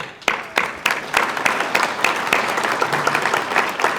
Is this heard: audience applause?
yes